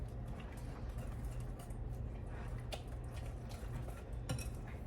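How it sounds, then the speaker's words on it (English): Whisking ingredients seasoned with salt and pepper together in a bowl: a steady, fairly quiet scraping and light clinking of utensil against the bowl, continuous throughout with a few sharper ticks. "You're going to whisk that all together as well."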